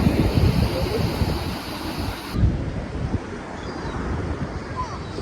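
Ocean waves crash and wash in a steady roar on Achill Island, Ireland, with wind rumbling against the microphone.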